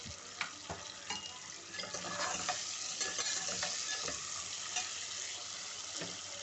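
Onions sizzle and crackle steadily in hot oil for bhindi masala, with occasional stirring scrapes of a spoon in the pan.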